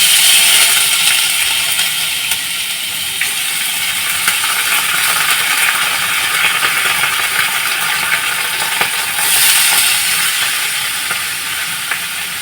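Pre-soaked flattened rice (chire) goes into a hot frying pan for chire pulao, setting off a loud, steady sizzle that hisses close and unbroken throughout, with faint scraping underneath.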